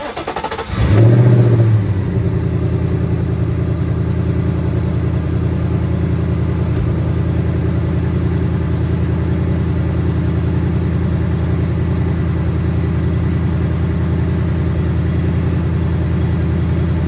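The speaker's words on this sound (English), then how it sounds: "We're gonna go ahead and turn on the car" A 2024 Ford Mustang GT V8 engine cranks and catches with a brief roar, then settles into a steady, even idle rumble that continues uninterrupted.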